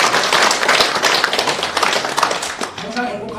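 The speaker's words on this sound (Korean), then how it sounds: "우리 신한구 위원장님께도 미리 축하의 박수 한 번 부탁드리겠습니다" Audience applause at a ceremony of the World Green Climate Association, congratulating a committee chairman: dense, steady clapping from a crowd that fades slightly toward the end.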